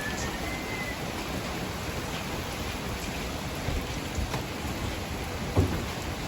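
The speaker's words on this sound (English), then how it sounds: "It's raining" Steady rain falling outside a rented pension on Ganghwado island, an even hiss of drops with a few soft heavier splats, no voices.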